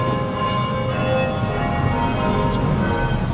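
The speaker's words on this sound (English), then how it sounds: "It's a church bell." A church bell rings steadily on a small-town street in Paintsville, Kentucky, its sustained tones layered over constant low outdoor rumble, with no talk heard.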